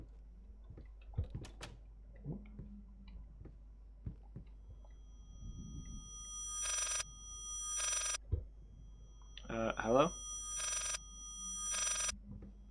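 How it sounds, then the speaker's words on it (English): A telephone in the horror video game Layers of Fear rings in repeated bursts, several loud rings spaced about a second apart amid quiet ambience and footsteps, with a brief spoken greeting. "Oh, that's the phone."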